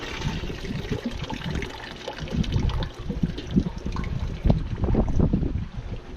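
Water from an aquaponics system gushes and trickles out through a partly opened valve, a close, uneven splashing flow that continues for several seconds.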